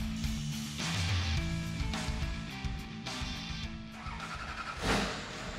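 A Chevrolet Silverado short bed Duramax diesel truck with a custom exhaust rumbles loudly and continuously, with its deep idle rising in a few brief surges of revving, close and without talk.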